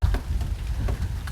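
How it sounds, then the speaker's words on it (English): Heavy rain falls outside an off-grid cabin at night, a brief, dense, steady hiss and patter with no voices. "still raining pretty good"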